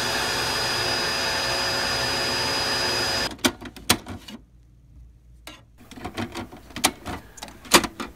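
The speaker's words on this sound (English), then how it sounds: "get a vacuum cleaner and suck underneath" A steady, broad mechanical whoosh of suction from a vacuum cleaner runs for about three seconds, sucking ink from beneath an HP inkjet cartridge, then cuts off, followed by scattered clicks and taps at close range.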